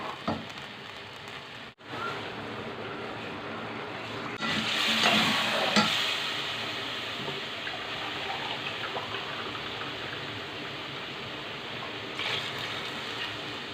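Beef sizzles and fries steadily in a pot, with occasional scraping stirs and a louder burst of crackling partway through; no voices.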